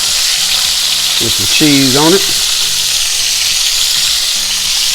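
Burger patties topped with cheese fry on a griddle, giving a loud, steady sizzle throughout, while someone speaks briefly over it.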